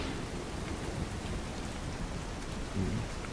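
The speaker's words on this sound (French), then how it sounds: "Il pleut" Steady rain pours down outdoors, a continuous dense hiss of drops hitting surfaces with no voices, holding an even loudness throughout.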